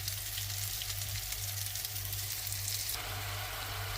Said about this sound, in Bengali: পেঁয়াজ রসুন হলুদ মরিচ জিরা ধনিয়া দিয়ে মশলাটা কষায় নিচ্ছি।